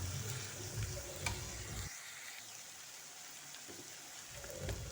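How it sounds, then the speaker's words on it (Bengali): Onions with salt are stirred in a frying pan, giving a soft sizzle with scraping strokes that drops away to near quiet midway, then resumes faintly, close and without voices. "লবণটা দিয়ে আবারও খুব ভালোভাবে আমরা মিশিয়ে নিলাম"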